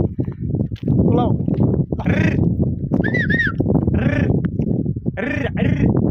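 A herd of goats kept in the desert bleats repeatedly, close by, and a person talks loudly over the calls.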